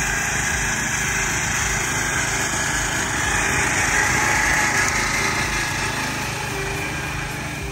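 An 8.5 horsepower small engine, newly upgraded, runs steadily at close range with a loud, continuous buzzing drone that rises slightly midway, and no voices are heard.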